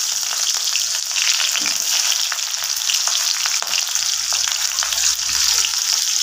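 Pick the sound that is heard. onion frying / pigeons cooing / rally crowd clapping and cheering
onion frying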